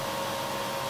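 A WeCreat Vision laser engraver starting a job gives off a steady, loud fan-like whir with a constant faint tone running through it, unbroken and without voices.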